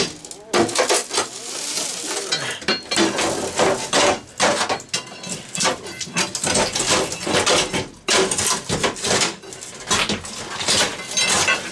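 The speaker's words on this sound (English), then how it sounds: "all we're going to do is get the crowbar like this and rip it out" A crowbar prying glass blocks out of a basement window: a close, loud run of sharp clanks, knocks and grinding scrapes comes in irregular bursts, with brief pauses between the hardest hits.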